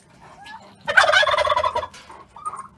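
A turkey gobbles in one loud, rattling burst lasting about a second, close by, amid a scuffle with dogs, with quieter rustling before and after.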